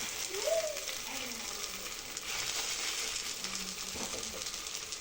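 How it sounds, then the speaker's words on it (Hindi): A potato dish fries in a pan with a soft, steady sizzle, close by, while a person speaks briefly over it and a few light clinks sound. "चलें जब तक ये फ्राई हो रहा है"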